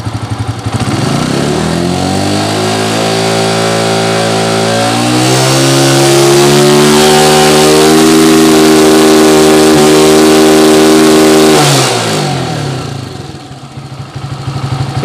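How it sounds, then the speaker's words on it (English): A motorcycle engine running during a stator AC voltage test: it idles, then climbs to a loud, sustained full-throttle roar that holds steadily for several seconds before dropping back down. "Paano kaya kung halimbawa ipu-full throttle natin?"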